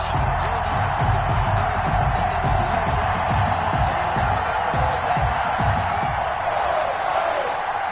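Stadium crowd noise from a PS4 football game, Philadelphia Eagles versus New York Giants, forms a steady dense roar with faint cheering underneath, constant and fairly loud throughout.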